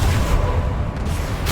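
A deep, booming blast from the Confringo blasting curse in Hogwarts Legacy, a short heavy rumbling explosion with a sharp burst of noise at the very end.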